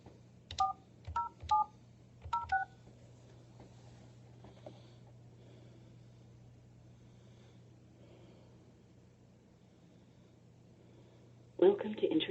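A burst of telephone keypad tones, several short evenly spaced beeps in quick groups, entering an account code on a call-in conference line, loud and clear over a steady low hum, then a brief automated-sounding burst at the end.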